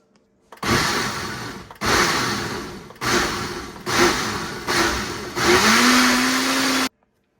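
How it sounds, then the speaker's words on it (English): A blender whirs loudly in five short bursts separated by brief pauses, with the last burst running longer, pureeing enchilada sauce. "we're going to blend this up until we've got a nice puree"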